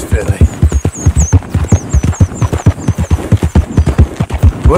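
Horse hooves clip-clop at a steady, even rhythm in Red Dead Redemption 2, loud and close throughout, with faint chirping high above.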